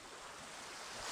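Sea surf washing onto the shore at Lagos Island, a steady broadband rush of waves with wind noise on the microphone, continuous and swelling slightly louder toward the end.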